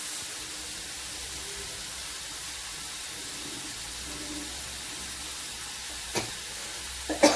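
Onions fry in oil for palak paneer, giving a soft, steady sizzle that stays low and even, close by, with a couple of small clinks near the end.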